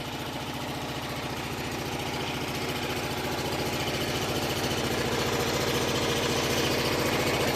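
An Onan generator engine runs steadily after a power outage, a close, continuous mid-pitched drone with a fast regular pulse that swells slightly louder over several seconds.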